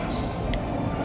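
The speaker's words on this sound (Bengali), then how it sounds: "ট্রেন ঢুকে গেছে" A passenger train, Bokaro Steel City to Howrah no. 18014, rolls into a station with a steady loud low rumble and rattle, a short faint tone sounding briefly partway through.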